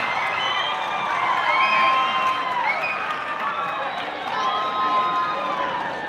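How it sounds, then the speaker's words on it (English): A home crowd at Texhoma girls' varsity basketball game cheers and shouts after a long three-pointer, a sustained roar of many voices with rising and falling yells, moderately distant. "Texhoma's crowd trying to tell her to shoot. Thrasher takes a long 3 and hits it."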